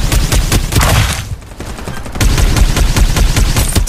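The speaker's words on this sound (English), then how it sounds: "Exchanging fire" Rapid gunfire is traded back and forth in Farlight 84, loud and close, with dense bursts of shots, a short lull, then sustained fire again.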